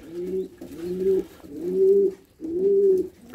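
Racing pigeons coo in repeated low, throaty phrases, four rolling calls in steady succession, close by with no talking.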